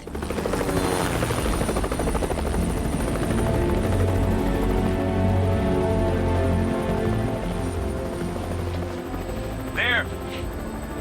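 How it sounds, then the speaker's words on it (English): A loud, steady helicopter engine drone with rhythmic rotor thumping fills the whole clip. "the drone of the helicopter engines"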